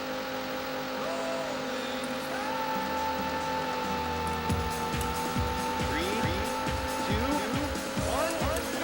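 Race car engine from the Daytona USA video game on the Sega Saturn, a steady loud drone with a shifting pitch, and bursts of tire squeal and skidding later on. A voice talks faintly underneath.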